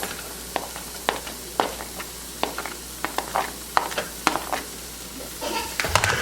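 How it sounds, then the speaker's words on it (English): Onions sizzle in a pan with toasted garlic and seasonings for Bermudian peas and rice, a steady fry hiss broken by repeated sharp scrapes and clinks of a utensil stirring, close and fairly loud, with no talk. "you're going to cook these onions in the seasonings until they are nice and translucent"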